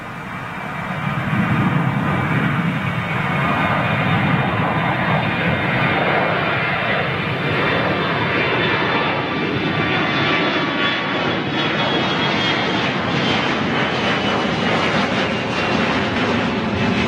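A TUI jet airliner at Birmingham Airport makes a loud, sustained engine roar that swells and holds as it passes fairly close, with no voices over it.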